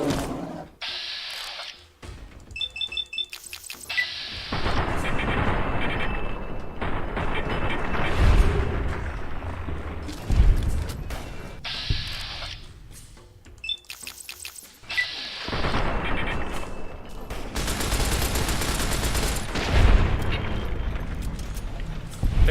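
Gunfire in the video game Fallout: New Vegas, Honest Hearts expansion, firing at a Green Gecko: loud bursts of shots and booming impacts come in repeated volleys across the whole stretch, with a short pause between them.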